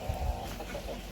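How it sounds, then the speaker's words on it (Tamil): Native country chicken in a home poultry setup, giving a short burst of close clucking against a steady background hum. "இந்த கோழி பார்த்தீங்கன்னா ஒரு நார்மல் நாட்டுக்கோழி"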